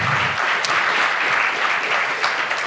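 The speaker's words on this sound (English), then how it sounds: "So, round of applause." A summit audience applauds, a dense, even wash of clapping that holds steady throughout the short stretch.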